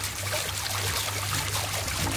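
Water trickles steadily from a stone into a koi pond filter at a garden pond, a continuous close splashing flow with no voices.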